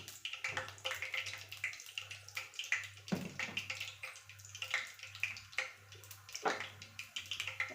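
Mustard seeds crackle and spit in hot oil with dense, irregular popping bursts, close and moderately loud over a low hum, with no talking.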